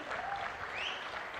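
Crowd applause at a political rally, a steady dense wash of many hands clapping continuously at moderate distance, with faint voices calling out over it.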